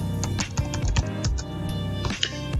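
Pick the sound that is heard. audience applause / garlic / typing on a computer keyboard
typing on a computer keyboard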